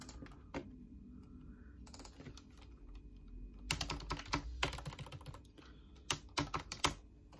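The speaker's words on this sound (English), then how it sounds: "I don't know why I'm typing so loud." Loud, rapid typing on a computer keyboard, clicks in uneven bursts that grow denser and heavier toward the end, close to the listener.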